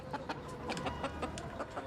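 Domestic chickens clucking in a series of short, repeated calls at a steady, fairly close range, with no voices present.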